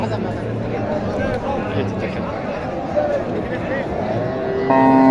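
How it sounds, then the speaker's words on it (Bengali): A large beef cow lows amid the steady hubbub of a crowded cattle market in Naogaon, Bangladesh, with many voices chattering in the background. "বিশাল বড় একটা গরু"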